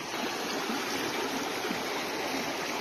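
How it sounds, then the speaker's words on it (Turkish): A creek flowing over its bed at an old gold-bearing stream, steady broadband rushing and gurgling water, close and continuous without any voices. "Bu dere yatağı."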